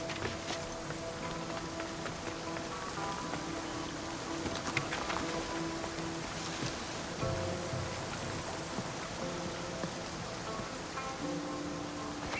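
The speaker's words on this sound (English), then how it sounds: "This is the waterfall." A waterfall in Assassin's Creed Odyssey pours as a constant broadband rush, soft and steady for the whole stretch, with faint game tones and small clicks drifting over it.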